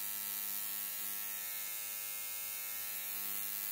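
Small engine with CDI ignition running steadily at 3000 RPM, giving a constant, even buzzing hum with no change in pitch or loudness and no talking.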